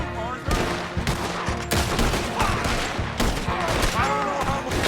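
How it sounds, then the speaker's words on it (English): Rapid gunfire crackles in a shootout in the video game Red Dead Redemption 2. Dense overlapping shots and bursts continue loud throughout, with faint voices mixed in. "Shoot, Arthur!"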